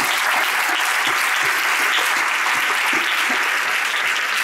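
A large audience applauds steadily at the closing ceremony of an international anthropology congress at the UDC rectorate in A Coruña, a dense, even wash of clapping that holds at full strength throughout with no talk.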